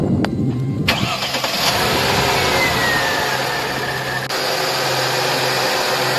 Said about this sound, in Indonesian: Saya hidupkan ya mesinnya ya.